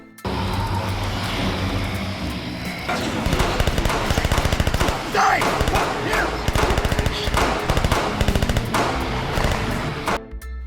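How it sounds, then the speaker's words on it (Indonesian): Film gunfire at zombies rattles in rapid, continuous bursts of shots, loud and close, layered over a dense action soundtrack with engine-like rumble. "membantu mereka semua menembaki zombie tersebut"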